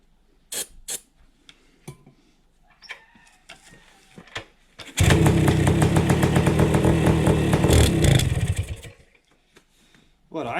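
A 1971 Kawasaki F7 motorcycle engine catches after some clicks and handling noises, then runs for about four seconds at a loud, close, rattly two-stroke idle before dying away.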